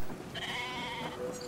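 A single drawn-out sheep bleat from the video game Brothers: A Tale of Two Sons, fairly close and clear over low ambient game noise.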